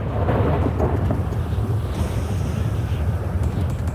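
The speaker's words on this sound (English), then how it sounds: "our Los Santos is now started to flood. The ocean is now entering into the city." Ocean water floods a city in the FiveM game, with a steady, loud wash of rushing surf and wind-like noise that carries on without a break.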